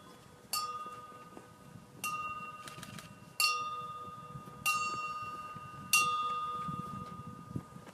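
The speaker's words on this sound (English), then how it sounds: "The tolling of the ship's bell will be given by Fleet Reserve Association Ed Gibbons." A ship's bell tolls slowly at a Fleet Reserve Association ceremony, five distinct ringing strikes at steady intervals with a few light taps between, each ring decaying over low room murmur.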